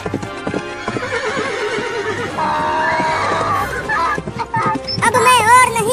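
A horse neighs loudly and close, with hooves clip-clopping beneath, followed by a shrill, wavering whinny; a voice speaks over part of it.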